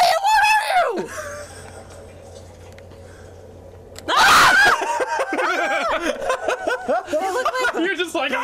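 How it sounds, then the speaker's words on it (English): Shrill creature screams from the Condemned 2 video game, a loud burst midway among game noise and vocal sounds, with a quieter cry at the start. "Why does it sound like things are screaming?"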